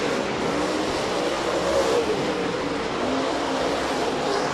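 Cornet Lightning-powered LG2 race cars roar steadily through turns three and four on the last lap at Rapid Speedway, a dense, continuous wall of engine noise at a fairly loud distance with no clear gaps.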